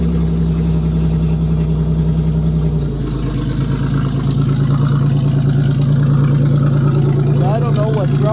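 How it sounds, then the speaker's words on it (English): A 1993 Buick Regal demo car's engine runs roughly with a hard misfire, a loud uneven idle that stumbles and shifts pitch partway through, with a faint voice near the end. "this thing's misfiring hardcore"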